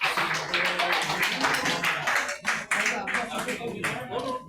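Audience at a karate coaching camp ceremony clapping steadily with scattered sharp taps, fairly close, with voices murmuring and talking underneath throughout.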